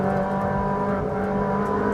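Ferrari 458 Speciale engine pulling hard on a track, a loud, steady, close high-pitched wail rising through the revs with no talk over it.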